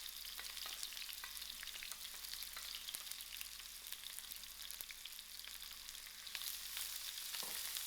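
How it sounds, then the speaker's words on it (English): Onions sizzling and frying in hot oil for a white-fry brinjal dish, a steady crackling hiss with scattered pops and occasional stirring, close and fairly quiet with no talking. "I'll allow these onions to fry out soft"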